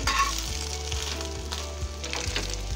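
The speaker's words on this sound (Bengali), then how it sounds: "ওই দিকটাও ভেজে নেব" Egg-dipped bread for street-stall dim toast fries in mustard oil with a dense, loud, steady sizzle close by, and no voices.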